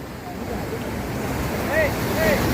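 Sea waves roll in where the Ganges meets the Bay of Bengal at Digha, a steady wash of surf with wind noise over the microphone and swells rising toward the end. Faint seabird-like calls are heard and a voice speaks over it.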